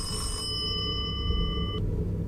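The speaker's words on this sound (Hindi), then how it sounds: "फोन कौन कर रहा है भाई, तार तो कनेक्ट ही नहीं है।" A telephone rings inside an Indian horror video game, a steady electronic trill with several bright tones that cuts off abruptly, playing over a low background rumble with no talking.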